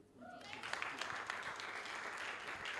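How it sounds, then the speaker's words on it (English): Audience applause at a high-school educational seminar, a dense sustained clapping from a crowd that swells quickly after a brief lull and holds steady throughout. "Another round of applause for Mr. Emeka."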